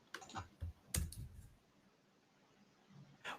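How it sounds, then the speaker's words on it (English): Quiet, close keystrokes on a computer keyboard come in a few short bursts of clicks separated by pauses, faint against a near-silent room. "while you're typing that in"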